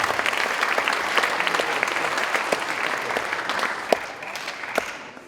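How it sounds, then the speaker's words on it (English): An audience at a school donation event applauds in a steady, dense wash of clapping that starts strong and gradually thins, with a few sharper individual claps standing out near the end. "Please join me in giving them a round of applause."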